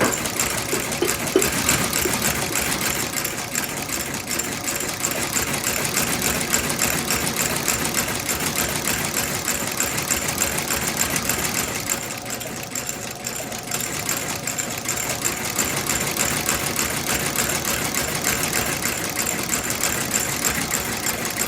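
A stitching machine sews resoled boots with a rapid, continuous mechanical whir and chatter. It runs steadily with only a brief dip partway through.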